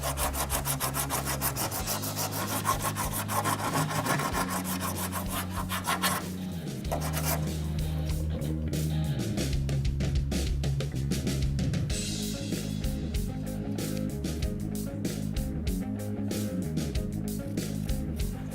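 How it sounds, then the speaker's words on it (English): Coarse sandpaper on a block levels uneven edges of a fiberglass gel coat repair, giving a steady, close rasping rub with repeated back-and-forth strokes that continues throughout without pause. "Using coarse sandpaper on a block, we're leveling the uneven edges to the surrounding area"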